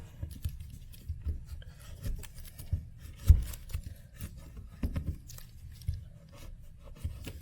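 Soft scraping and rubbing as scissors or a fork press down the ridges of yarn on a DIY dragon egg, a series of quiet, close, irregular strokes with no talking.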